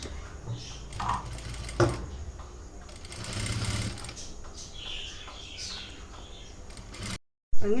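A sewing machine stitches the neck lining of a maxi dress in quick, steady bursts of mechanical whirring and clicking, with brief pauses and fabric handling between runs, fairly close and moderately loud.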